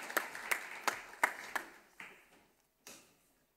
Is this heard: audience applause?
yes